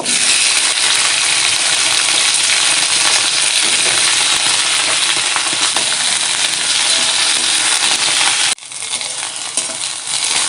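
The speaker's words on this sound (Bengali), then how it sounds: "ওই তেলে ভেন্ডিগুলো ভেজে নেব।" Okra sizzles steadily in hot oil in a home kitchen pan for a traditional fish curry, a loud continuous frying hiss that dips sharply near the end before resuming slightly quieter.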